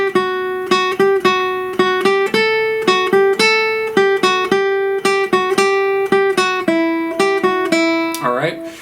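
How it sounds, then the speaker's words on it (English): Classical guitar playing a short method-book exercise with every note picked: a steady run of clearly separated plucked notes, each with a sharp attack and ringing decay, played alone and close, ending with a brief scrape. "if you picked all the notes in the exercise at the bottom of 55, it would sound like this"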